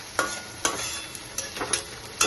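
Taro stolon curry with potatoes frying hard in a pan, a steady soft sizzle broken by several sharp stirring scrapes at irregular intervals, close and moderately loud with no talking.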